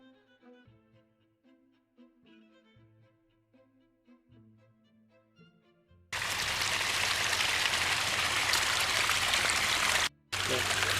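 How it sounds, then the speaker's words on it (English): A small stream of water flowing in British Columbia in winter, a loud steady broadband rush that starts abruptly partway through, drops out briefly, then resumes, after a quieter stretch of faint tones. "This little stream is the water that flows."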